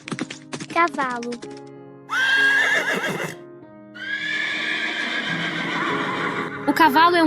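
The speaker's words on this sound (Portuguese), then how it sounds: "Ouça o som do cavalo." A horse gives two long, loud whinnying neighs, the second drawn out, with brief clipped sounds before them and a short call at the end, in a farm animal sound sequence.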